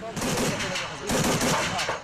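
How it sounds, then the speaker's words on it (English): Bursts of rapid gunfire from units pursuing militants south of Kirkuk rattle in quick succession, loud and echoing, with a faint voice mixed underneath. "Gunfire echoed for hours Saturday as the units pursued the militants"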